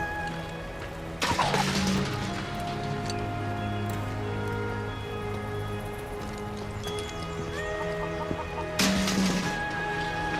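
Chickens cluck and squawk in a Final Fantasy VII Rebirth chicken-catching mini-game, steady clucking over layered game music, with two louder bursts of flapping or squawking.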